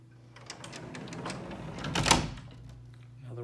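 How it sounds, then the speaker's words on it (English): A sliding door opens in a house, a rolling rumble with clicks that builds to a louder knock near the end of its travel, heard close and alone. "Sliding door here."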